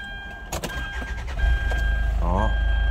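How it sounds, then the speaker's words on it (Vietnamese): A Hyundai Santa Fe MLX with a 2.2 turbo diesel engine cranks and fires up, then settles into a steady, even idle, with a few clicks and a short voice heard before the start. "Đây em sẽ nổ máy cho anh em xem này."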